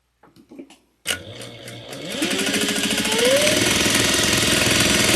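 A sewing machine stitching quilting lines: a few soft clicks, then the motor starts and settles into a fast, steady, buzzing needle rhythm that grows louder and continues to the end.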